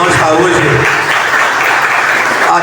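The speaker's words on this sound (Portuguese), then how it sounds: "Aqui a gente inicia pedindo a salva de palmas para o nosso companheiro Gregório" Applause from the crowd at a Workers' Party directorate swearing-in ceremony in Aratuípe, a dense steady patter of many hands lasting throughout, with voices mixed in underneath.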